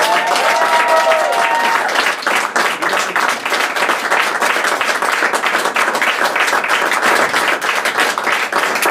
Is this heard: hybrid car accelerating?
no